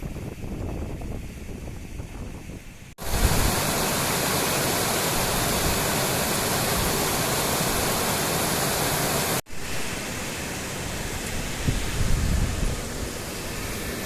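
At Godchinmalki Falls near Belgaum, water rushes down in a dense, steady roar heard close by. Two abrupt cuts break the roar, and its level shifts slightly between sections.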